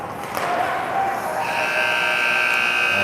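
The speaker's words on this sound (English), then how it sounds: "And there's the buzzer to end the first period." A loud, sustained electronic hockey buzzer blares over arena crowd noise to end the first period of a tournament game, holding its steady tone for well over a second.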